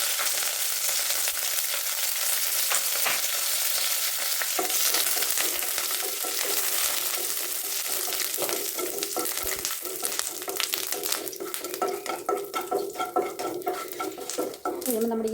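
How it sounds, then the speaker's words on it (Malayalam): Mustard seeds and curry leaves sizzle loudly in hot oil for a chickpea dish, a dense continuous frying hiss that turns into scattered sharp crackles and pops toward the end, with some utensil clinks. "അപ്പോൾ നമുക്ക് ഇതിലേക്ക് കടുകിട്ട് കൊടുത്താലോ?"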